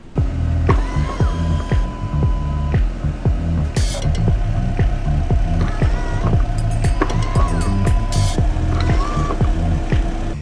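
A hidden backup camera on a 2021 Mercedes-Benz GLA 250 deploys, a near, loud run of clicking, ratcheting mechanical movement with whirring and small clunks, with no talk.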